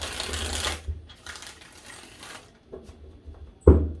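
Tarot cards riffle in a loud shuffle at the start, followed by quieter soft shuffling and a sharp tap near the end.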